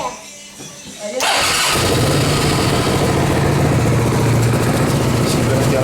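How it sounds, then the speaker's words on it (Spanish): A Hyosung GT 650 R (Comet) motorcycle engine cranks briefly and fires up, settling into a loud, steady idle close by that runs to the end. "Vamos a arrancar la moto"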